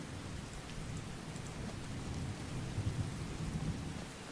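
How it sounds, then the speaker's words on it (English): Steady rain pours in a video game, with low thunder rumbling underneath and swelling slightly toward the end, continuous and without voices. "I really would appreciate if it stopped raining, Lala."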